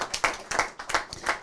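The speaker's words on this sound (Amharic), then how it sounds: "አጨብጭቡለት" At a community fundraising event in Toronto, the audience claps in a steady rhythmic beat, with sharp, closely spaced claps at moderate loudness and no talking.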